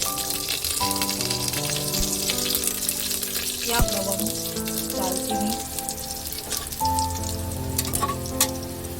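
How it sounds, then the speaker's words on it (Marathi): Whole spices such as cinnamon crackle and spit in hot oil for a tempering for paneer pulao, a steady close-up sizzle with sharp pops beneath louder background music and brief speech. "मस्त तडतड असा आवाज येत आहे बघा"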